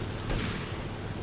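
Dense, booming bursts of gunfire in the video game GTA, a continuous loud rumble of shots packed close together in a short stretch with no speech.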